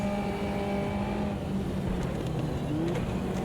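Race car engine in the Automobilista 2 racing game during wet, rainy conditions, droning steadily and loudly with sustained tonal whine and a brief pitch rise near the end, no voices over it.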